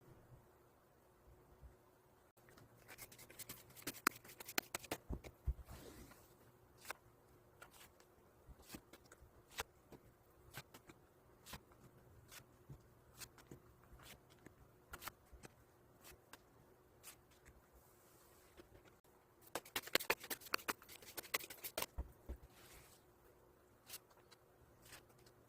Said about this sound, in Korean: 그럼 카드 셔플 진행해 보도록 하겠습니다.